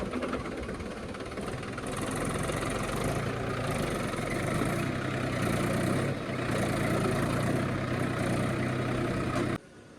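A heavy Mahindra tractor engine idles steadily and loudly for several seconds, a low rumbling drone that cuts off abruptly near the end.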